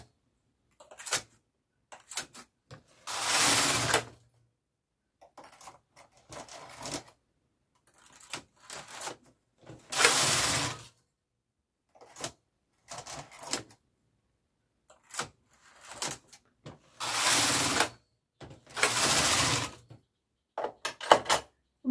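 A domestic knitting machine knits a few more rows, its carriage rasping across the needle bed in loud sweeping passes broken by pauses and small clicks, close by with no speech.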